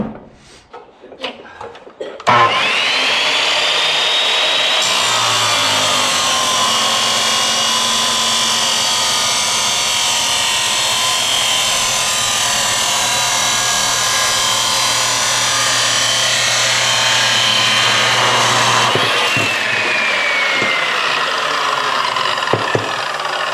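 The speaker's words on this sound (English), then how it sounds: "went and grabbed a die grinder yesterday with some carbide bits to clean up some of this casting" A die grinder fitted with carbide bits cleaning up the casting on an LS intake manifold: a loud, continuous high-pitched whine that spins up, holds steady for about fifteen seconds with shifting grinding tones, then winds down, preceded by a few clicks and handling knocks.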